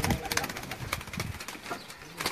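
A pigeon is handled and flaps its wings in a few quick, close fluttering bursts, with soft handling noises between them.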